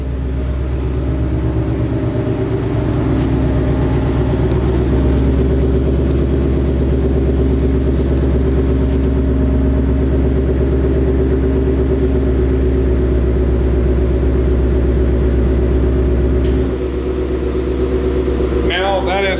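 A 2018-2021 Ford Mustang GT idles at about 1,000 rpm in track mode with its exhaust setup, a loud, close, steady low rumble that holds evenly throughout with no revving.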